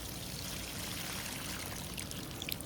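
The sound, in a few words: water being poured into concrete mix for paving stones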